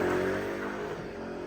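A car engine revs hard during a burnout, a loud, sustained roar that holds steady and then eases slightly, heard alone without talk.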